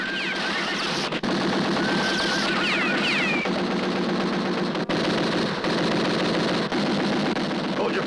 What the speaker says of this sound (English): Klein, shoot him dead.